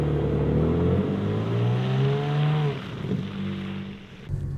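A G82 BMW M4 Competition with xDrive four-wheel drive accelerates hard through snow. Its engine note climbs in pitch, eases off, then rises again briefly, loud and close.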